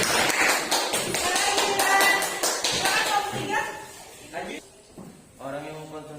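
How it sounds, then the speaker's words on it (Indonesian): Schoolchildren in a junior high classroom clapping for a group that just presented, a lively burst of many hands that thins out and fades, followed by a teacher's voice speaking. "Beri tepuk tangan untuk kelompok 2."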